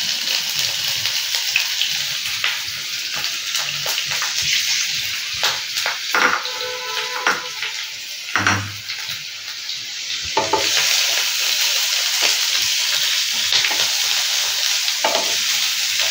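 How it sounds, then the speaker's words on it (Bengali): Chopped onion hits hot oil in a pan with a whole green chilli, bursting into a loud steady sizzle with spatula stirs and scrapes throughout. "এইবার এর মধ্যে প্রথমে পেঁয়াজ কুচিটাকে এর মধ্যে দিয়ে দেবো।"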